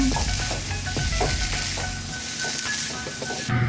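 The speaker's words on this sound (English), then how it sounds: "We're gonna put in the potatoes. Toss it in." Potatoes tossed into a hot pan, a loud, crackling sizzle with scraping and stirring strokes at irregular intervals, close and continuous.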